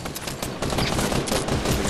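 A short burst of dense, rapid gunfire from a squad-based shooter video game, loud and continuous for under two seconds.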